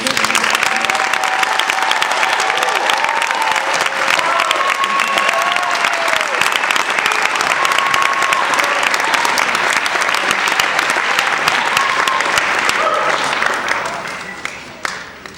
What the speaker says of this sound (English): I think another round of applause will be in order